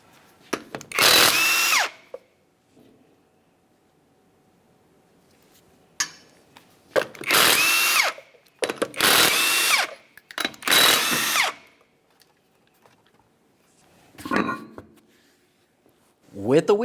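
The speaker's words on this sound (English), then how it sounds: "remove all 4 of your 19mm lug nuts and then the wheel" A power tool loosens 19mm lug nuts from the front wheel of a 1994-1997 Honda Accord, sounding in several loud, close bursts of a few seconds each, separated by quiet gaps.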